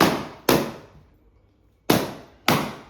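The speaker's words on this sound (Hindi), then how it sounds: "गाइस ये विदाउट पॉल्यूशन वाले पटाखे हैं जो आप लोग भी फोड़ सकते हो, पॉल्यूशन भी नहीं होगा और पटाखे के पटाखे की आवाज भी आएगी।" Pollution-free firecrackers go off in four sharp, loud cracks, two close together, a long pause, then two more, each with a short decaying tail.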